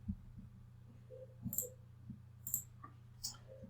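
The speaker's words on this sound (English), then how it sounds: "Click on save, close that, and click on choose file." A computer mouse clicks sharply a few times, close and crisp, spaced about a second apart over a low steady background hum, while a CSV file is saved and uploaded.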